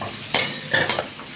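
Onions and curry leaves sautéing in hot oil while making karuvadu thokku, with a soft sizzle broken by a few sharp scrapes and stirs of a spoon against the pan, close and brief.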